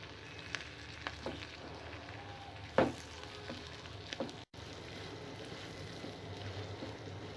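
Onion and capsicum pieces fry in a pan with turmeric for a cauliflower pepper fry, giving a faint, steady sizzle with one brief clatter partway through.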